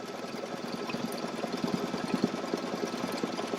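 A sewing machine stitches down appliqué on a quilted Valentine's table runner, its steady mechanical chatter close and moderately loud, running continuously with a rapid pulsing rhythm.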